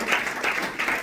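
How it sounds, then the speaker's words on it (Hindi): Congregation applauding in a church service, a steady wash of hand claps that rises and falls in waves throughout, fairly close and with no voices over it. "ये परमेश्वर को धन्यवाद ताली देंगे और सराहना करते हैं हमारे पास्टर का।"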